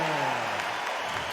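Capacity crowd in the Undisputed boxing video game before a 140-pound title fight, a steady roar of cheering and applause filling the arena throughout, with a commentator's voice running over it.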